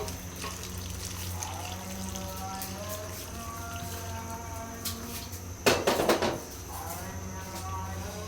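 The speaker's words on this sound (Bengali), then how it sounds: "এখন এর মধ্যে দিয়ে দিচ্ছি একটুখানি গরম জল।" A little hot water is poured into dal cooking in a pan, a short, close splash and burbling gush about midway through, set against a quiet kitchen hum and faint background activity.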